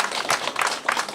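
A hall audience at a Korean county town-hall talk concert in Gamgok-myeon applauds the county governor, a short burst of dense, steady clapping from many hands that rises and falls slightly with no voices over it.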